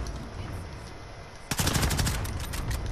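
Rapid automatic gunfire in the online shooter Warzone erupts halfway through after a stretch of quieter game noise, a fast loud burst of repeated shots that keeps going to the end.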